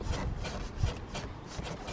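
A loosened intercooler pipe on a Ford Fiesta ST180 is worked back and forth by hand, giving close, low knocks and dull rubbing scrapes over a steady background hiss.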